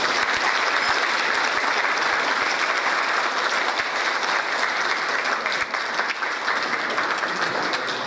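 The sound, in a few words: audience applause after a lecture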